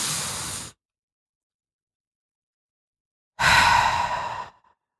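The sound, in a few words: deep breath in and slow exhale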